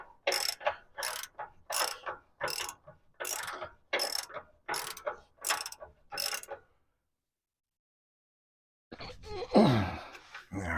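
A long wrench ratchets on a bolt while working on the vacuum pump of a 2014 Ford F250 pickup, giving about nine rapid bursts of clicking, then a pause and a louder, harsher mechanical rasp at the end.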